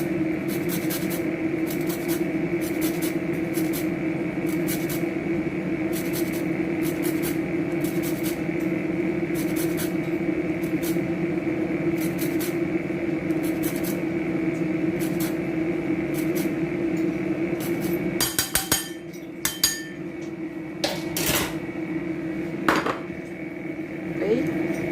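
A lime is zested in a home kitchen, giving repeated rhythmic scraping strokes at a steady pace over a constant low background hum, with a few sharper knocks near the end.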